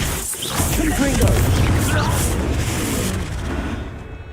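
A Confringo blasting spell explodes in Hogwarts Legacy, a loud booming burst that rumbles and crackles for several seconds, with game voices and effects mixed in and slowly fading.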